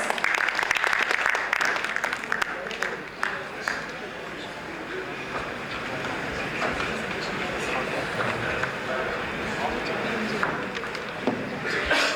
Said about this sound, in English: Can I please welcome the gentleman with a huge round of applause?